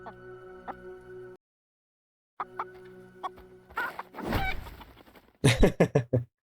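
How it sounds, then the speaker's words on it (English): Chickens in the game Fable, a few short clucks and squawks near the end, close and loud after a steady musical drone and a rustling whoosh. "I love kicking chickens."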